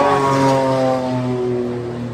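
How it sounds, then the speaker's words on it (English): A propeller airplane passing overhead, a loud steady droning hum with a slowly shifting pitch that fades slightly toward the end, with no talking. "Here's that plane going overhead."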